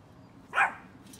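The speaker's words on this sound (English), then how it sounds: "Bella, you have no reason to bark, baby" A small dog gives one sharp bark, close and fairly loud, followed by quiet.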